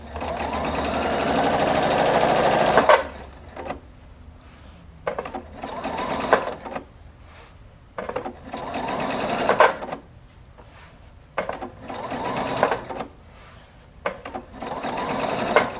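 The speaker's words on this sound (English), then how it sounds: "you can sew right up to the edge and then slip in your next piece of fabric and just start sewing" A Viking Opal 690Q sewing machine stitches fabric, first in one steady run of rapid mechanical whirring, then in a series of short bursts separated by pauses.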